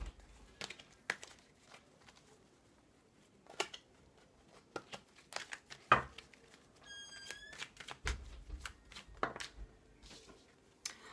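Tarot cards are shuffled and flipped over, giving scattered soft riffling clicks and taps at close range, with occasional thumps and a brief faint squeak, no voice present.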